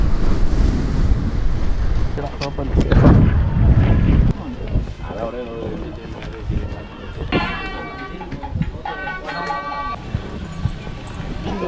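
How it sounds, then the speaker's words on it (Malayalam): Wind gusting outdoors at a sunflower farm in Tenkasi during a bike ride, a loud, steady broadband rush buffeting the microphone for the whole stretch, with brief surges and dips. "നല്ല കാറ്റുണ്ട്, തണുപ്പുണ്ട്, കുഴപ്പമില്ല."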